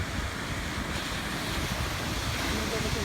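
Ocean surf at Malibu beach, a steady broadband wash of waves with wind buffeting the microphone throughout, no distinct break, fairly loud and continuous.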